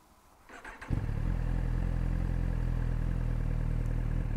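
A Suzuki GSX-R 1000 motorcycle cranks over briefly, then fires and settles into a loud, steady close idle that continues without pause.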